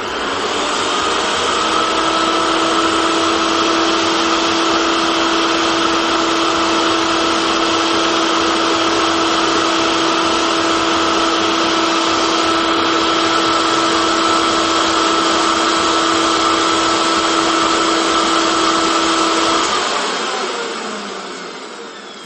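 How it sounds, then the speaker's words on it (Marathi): A kitchen mixer churns milk cream with fridge-cold water to make butter for ghee, giving a loud, steady motor whine with a constant hum that runs unbroken for about twenty seconds, then stops abruptly. "मिक्सरला साधारणपणे 2 मिनिटं आपण हे फिरवून घेणार आहोत।"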